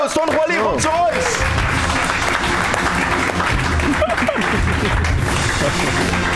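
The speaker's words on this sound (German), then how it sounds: "Don Quali, riesen Applaus!" A studio audience at a Swiss television talk show applauds a guest's entrance: dense, loud, continuous clapping runs throughout, with a host's voice and crowd voices rising over it.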